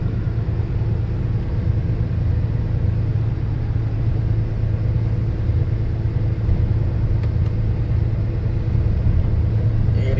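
A Leyland six-wheel truck labours uphill in fourth gear, its engine giving a steady, deep droning rumble that stays constant and close throughout with no talking.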